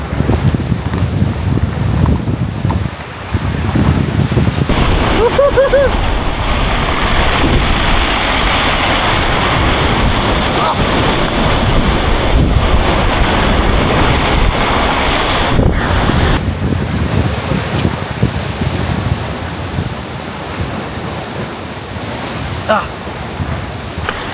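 Powerful ocean waves crash and surge onto the shore near Butas Cave, a loud continuous roar with wind buffeting the microphone throughout.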